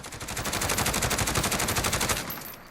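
SIG SG 550 rifle firing full auto in Call of Duty Modern Warfare, a fast, even burst of rapid, loud, close shots that runs for over two seconds before cutting off.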